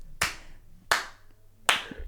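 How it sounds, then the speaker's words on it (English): Three slow, evenly spaced hand claps, sharp and close, with short decays between them and no talking. "you get a slow clap from me"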